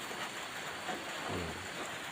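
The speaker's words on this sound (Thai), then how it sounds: "ก็ฝนก็ตกด้วยนะครับสี ฝนตกแรงอยู่" Heavy rain pours down after dark in rural Thailand, a steady, even wash of rainfall hissing across the surroundings with no voices.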